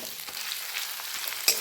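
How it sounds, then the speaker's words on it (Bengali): Ginger garlic paste frying with onions in hot oil gives a steady, close sizzle with faint stirring scrapes, no voices. "আদা রসুন বাটাকে আমি পেঁয়াজের সাথে খুব ভালো মতন আবার ভেজে নেব।"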